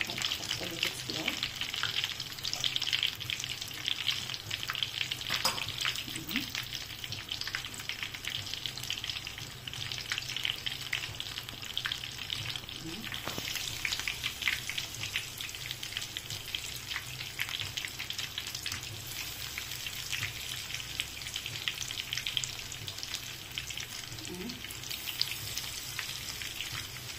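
Potatoes frying in oil in a home kitchen while crispy cauliflower is cooked, a steady dense sizzle with crackling pops, continuous and close throughout.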